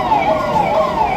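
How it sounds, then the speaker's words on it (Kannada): An ambulance arriving at an emergency mock drill in Shivamogga sounds a loud, close siren with a sustained wailing tone. "ಆಂಬುಲೆನ್ಸ್ ಆಗಮನವಾಗಿದೆ"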